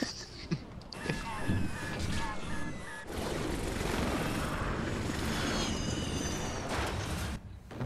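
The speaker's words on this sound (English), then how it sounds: "He's gonna shoot down the helicopter." A helicopter's rotor thrum and engine whine in Resident Evil: Operation Raccoon City, against a noisy game soundscape with bursts and rumbles and a voice talking over it.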